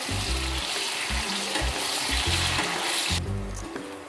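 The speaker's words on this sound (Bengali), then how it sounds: "এবার কিন্তু আমি এগুলোকে লাল করে ভাজতে থাকবো" Potato pieces frying in a pan with a little salt and turmeric give a steady close sizzle with occasional stirring scrapes, loud and continuous throughout.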